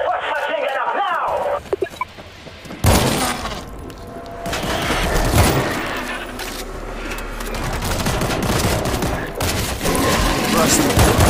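Dense, sustained machine gun fire and explosions from the zombie shooter game World War Z, Moscow chapter, with voices talking over the loud, continuous barrage.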